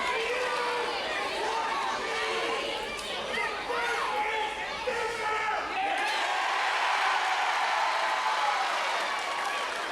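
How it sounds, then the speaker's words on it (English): A wrestling crowd cheers for Crazy Steve: a steady wall of arena noise with shouts, whoops and scattered clapping. Commentators talk over it, and the cheer swells toward the end. "Crowd support here for Crazy Steve."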